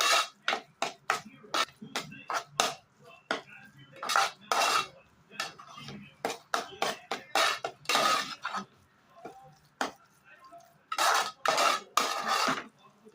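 Mixed spices are stirred in a hot pan while squid is being prepared, with a rapid run of loud metal spoon clanks and scrapes against the pan and short pauses between bursts.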